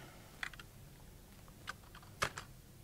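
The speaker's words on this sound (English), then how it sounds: "we just type the name" A few light, quick keystrokes on a computer keyboard as a domain name is entered during an Active Directory setup, sparse and faint with pauses between the taps.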